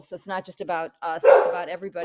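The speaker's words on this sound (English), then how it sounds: "Sorry about the dog." A dog barks a few short, close yips in the background while a person keeps talking over it.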